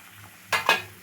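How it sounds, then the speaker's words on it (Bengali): Fried okra dropped into a simmering spice mix in a pan, two quick close bursts of splashing sizzle and stirring over quiet background. "এবার ভেজে রাখা ঢেঁড়সগুলো আমি দিয়ে দিলাম"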